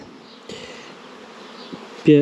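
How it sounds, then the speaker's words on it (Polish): Honeybees fly intensely around beehives, a steady close buzzing hum that carries throughout, with a louder burst as one passes near at the end. "pszczoły tak intensywnie latają"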